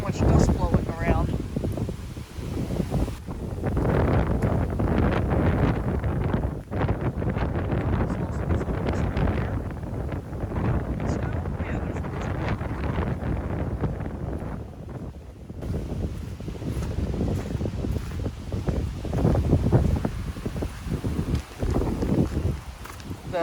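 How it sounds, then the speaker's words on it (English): Strong gusty wind roars and buffets the microphone at an open outdoor river area, with dust blowing about; a person speaks intermittently under the loud, continuous wind noise. "Yeah, this wind is something."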